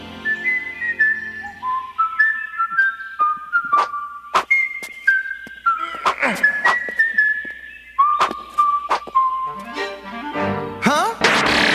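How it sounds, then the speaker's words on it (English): A cartoon character whistles the Mario theme song in the 1980s Zelda animated series, a clear bright melody of short stepped notes running continuously, punctuated by sharp percussive hits and effects. "Link is whistling the Mario theme song"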